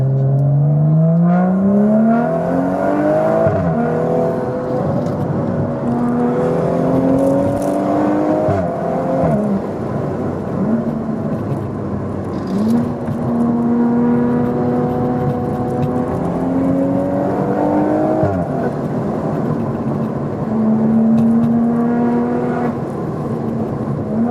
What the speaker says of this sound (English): it's a full straight pipe exhaust setup with no rear seats, it really has that race car vibe to it